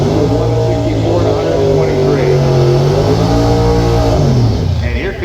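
A drag race car with a supercharged Chrysler 426 engine idles and revs loudly and continuously at a drag week event, its deep rumbling tone rising and falling under a commentator's voice.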